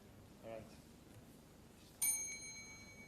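A bell rung to start a timed three-minute thesis presentation at a conference, one bright ringing strike that sustains and fades over about a second, after a soft earlier sound in a quiet room.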